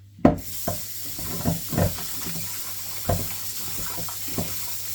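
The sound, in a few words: washing sliced pork under running tap water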